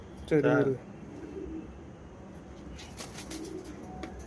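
Pigeons coo softly at a distance in an outdoor setting, the faint murmuring calls coming and going under nearby talk, with a short burst of louder voice near the start.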